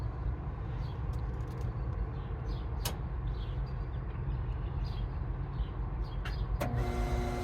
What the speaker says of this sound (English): Car clicked.